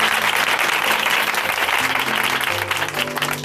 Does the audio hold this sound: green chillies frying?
no